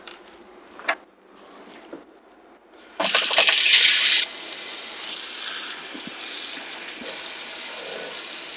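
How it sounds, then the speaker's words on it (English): Four cups of water poured into a soup pot for a Japanese clear soup, starting after a few small clinks and rising into a loud, steady splashing rush that slowly fades. "Next, let's add 4 cups of water."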